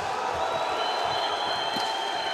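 Crowd cheering inside the Hendek Sports Hall during a kickboxing fight, a steady dense roar of voices filling the arena, continuous and even.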